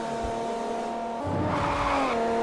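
A race car in Forza Motorsport 4 holds full throttle through a fast corner, its engine droning steadily at high revs, with a rising strained note and tire scrub joining partway through.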